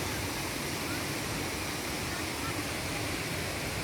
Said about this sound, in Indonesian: Mohon maaf kalau suaranya sedikit agak berisik ya, karena suara air terjun.